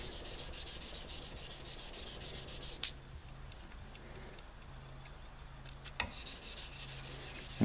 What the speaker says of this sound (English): We're basically keeping part of the sanding bar up on the guard and part of it on the handle material